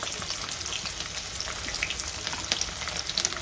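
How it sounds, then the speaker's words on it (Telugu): Crushed garlic cloves frying in hot oil, a loud dense sizzle with constant crackling and spitting, close and continuous, no voices. "బాగా అయితే దంచుకున్న తెల్లవాయిలు అయితే వేసేయాలి ఆయిల్లో"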